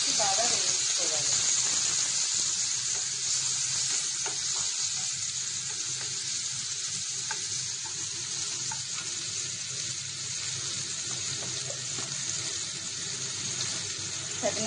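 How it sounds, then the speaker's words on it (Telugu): Green beans frying with onions in a pan for fried rice, a steady close sizzle and hiss holding through the whole stretch with faint scraping, while a voice talks quietly over it. "ఉల్లిపాయలు బాగా వేగాయి కదా, బీన్స్ వేసుకోవాలి. బాగా వేయించుకోవాలి."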